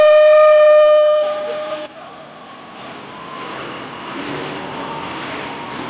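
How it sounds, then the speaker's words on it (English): Train horn sound effect blasting over a stadium PA at a Monster Jam event in Kansas City, a loud sustained multi-tone whistle that cuts off after about a second and a half, leaving a roaring arena crowd. "David, hit him with the choo-choo one more time. I want to hear that one more time. The train is in. It's leaving the station"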